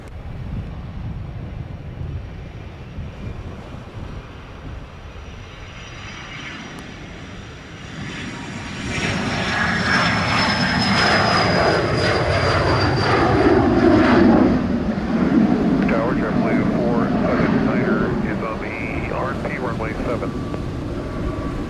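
Airliner taking off from Sangster airport in Montego Bay, Jamaica, its jet engines swelling from a distant hum into a loud, roaring spool-up with wind buffeting, while air traffic radio talk runs beneath.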